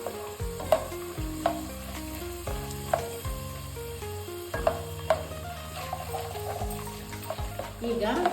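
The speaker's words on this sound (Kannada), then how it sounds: "ಕಡಲೆಬೇಳೆ ಹಾಕೋತಾ ಇದ್ದೀನಿ. ಅದು ಸ್ವಲ್ಪ ಗೋಲ್ಡನ್ ಕಲರ್ ಬ್ರೌನ್ ಬರೋವರೆಗೂ ಫ್ರೈ ಮಾಡ್ತವೆ." Chana dal and peanuts fry in a hot pan for moong dal uppittu, giving a steady sizzle broken by repeated scrapes and clinks of a spoon stirring, with no talk over it.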